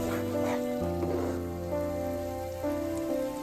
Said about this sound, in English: And the spice mix we made, add to the gravy and give a quick stir.